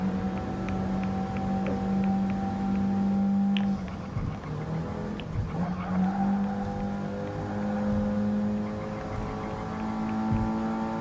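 A race car in Gran Turismo Sport roars through gears, engine tones rising and dropping with shifts and braking, tire noise and other cars audible, loud and continuous with no talk.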